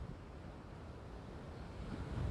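Surf surges and washes up at high tide on Alibaug beach in the monsoon, a steady broadband roar with wind buffeting the microphone, swelling slightly louder toward the end, no voices.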